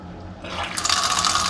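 Water pours and splashes out of a ceramic water filter during replacement, starting as a faint trickle and quickly swelling into a loud, steady gushing flow close by.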